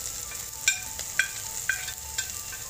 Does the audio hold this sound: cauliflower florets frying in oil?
yes